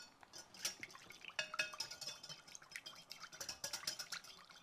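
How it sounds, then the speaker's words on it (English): Quick, quiet, rhythmic clinking and tapping of a whisk against a bowl, a steady run of light metallic strokes heard up close. "This motion is whisking."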